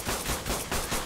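Rapid automatic gunfire in the video game ARK: Survival Evolved, a dense continuous burst of shots with no talking.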